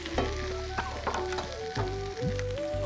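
Cumin and coriander powder sizzling in hot oil for coriander chivda, a steady loud crackling fry with a few scraping stirs, close up.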